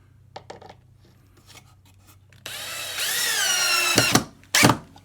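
A power drill drives screws into the wood of a homemade dolly: a few soft taps and clicks, then a close, loud whirring drive that climbs in pitch, stops, and returns in a short final burst.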